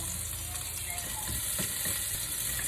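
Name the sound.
sautéing aromatics for beef bulalo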